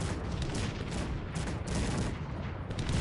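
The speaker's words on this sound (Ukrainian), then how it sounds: "Поки просто бачимо перестрілку гарматами." Cannon fire exchanged in the real-time strategy game Cossacks 3, a dense, continuous barrage of overlapping booms and crackling shots filling the whole clip at steady loudness with no talk.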